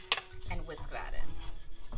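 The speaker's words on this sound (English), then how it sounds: "And whisk that in." A whisk clatters against a pan while tomato paste is stirred in, with quick metallic scrapes and clinks up close and a continuous rubbing texture throughout.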